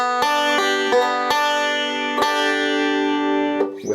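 Banjo picking hand playing a forward roll on open strings from the bluegrass tune Standin' in the Need of Prayer: bright plucked notes ringing in a steady rolling pattern, close and clear, alone for about four seconds.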